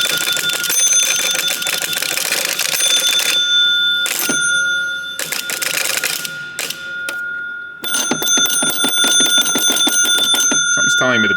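A 1961 Gottlieb Corral pinball machine rings its bell in rapid, bright metallic bursts, loud and close, with short gaps between runs of clattering chimes.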